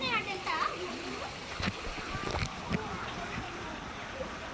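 Water splashes and pours down at a Wonderla park water ride, a broad rushing wash with sharp splatters, while children shout and people talk over it.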